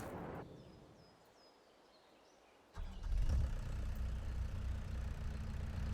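A tractor engine in Farming Simulator 22 starts after a quiet stretch with faint bird chirps, then settles into a steady, close, low rumbling idle with no voices.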